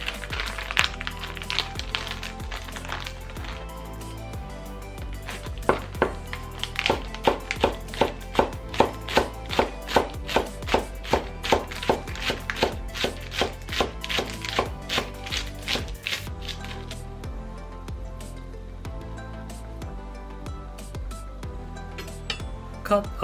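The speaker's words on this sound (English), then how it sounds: "Sliced lettuce." Lettuce is sliced with a knife on a cutting board in a fast, even run of crisp chops, close and distinct, with a few lighter taps and clinks of utensils before and after.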